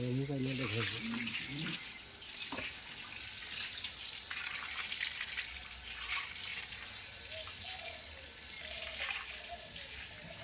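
Running water washes scrubbed algae out of a concrete ornamental fish-farming tank, a steady splashing rush with a nearby voice talking over it.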